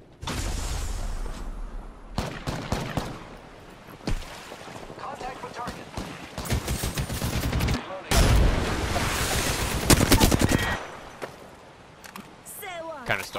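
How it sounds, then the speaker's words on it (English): Video game gunfire in a shooter, sharp bursts and bangs scattered across the stretch, mixed with wind-like noise and sustained loud passages, with players talking over it. "Opening fire on the enemy."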